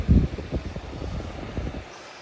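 A Vornado Pivot personal fan runs on its highest of three speeds, giving a steady close airy whoosh with a low rumble and a few soft bumps at the start.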